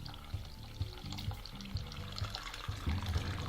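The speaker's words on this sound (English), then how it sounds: "Run the hot water." Hot water runs from a sink tap in a video game, a steady splashing, gurgling stream that continues throughout, moderately close with no voices over it.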